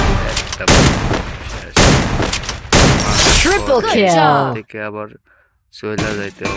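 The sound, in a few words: gunshots in the Free Fire video game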